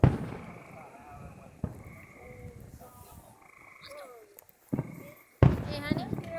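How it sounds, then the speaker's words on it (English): Fireworks going off across the street at a neighborhood display: a few sharp, fairly distant bangs and crackles at irregular moments, heard among people chatting and calling out nearby. "Dawn, are you watching the fireworks?"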